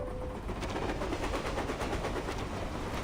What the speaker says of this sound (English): The sound of a passing train interrupts him